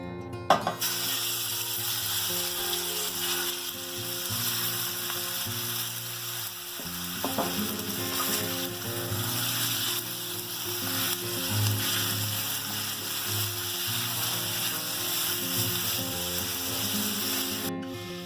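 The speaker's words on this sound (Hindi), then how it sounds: "आप देख सकते हैं ये फ्राई हो रहा है।" Marinated chicken fries in a hot pan, giving a loud, dense, continuous sizzle throughout with occasional stirring clatter, close up and with no talking.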